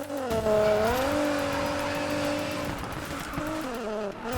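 A Nissan GT-R drifts in Need for Speed Payback, the engine holding a sustained, tonal whine that dips and rises with throttle, and tire screech mixed in, loud and close with no talk.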